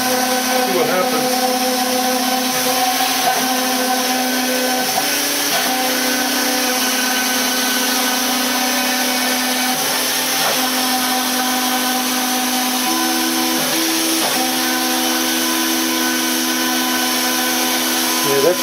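CNC router spindle running at about 15,000 RPM while cutting at a 45 inches-per-minute feed, a loud, steady, close high-pitched whine with slight pitch dips as the cut load shifts, continuing without a break.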